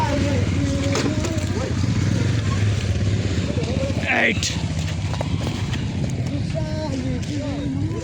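A motorcycle ride along a rocky stretch near a hillside temple, the engine droning steadily and close throughout, with people talking over it.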